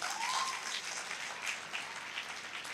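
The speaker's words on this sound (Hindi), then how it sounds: "जोरदार तालियां होनी चाहिए" An audience applauds at a motivational business talk on direct selling, a short burst of dense clapping with no voices.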